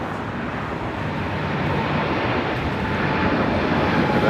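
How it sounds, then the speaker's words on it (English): A United Airlines Boeing 787-9 Dreamliner takes off at LAX, its broad jet roar steady and loud, swelling slightly as it continues without interruption. "This is United Airlines Flight 32 taking off to Tokyo, Narita on a 787-9 Dreamliner."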